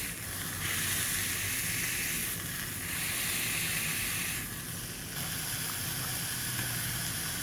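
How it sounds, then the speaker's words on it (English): Crepe batter sizzles steadily on a Maxim electric crepe maker, a close, continuous hiss that swells and eases in slow waves with no talking. "It's definitely sizzling."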